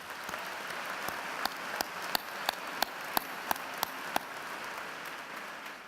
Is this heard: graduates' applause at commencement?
yes